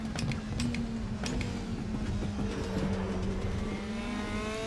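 A race car in the RaceRoom racing game heard from the cockpit, its engine note stepping down through gears under braking with rising and falling pitch, loud and continuous with no talking.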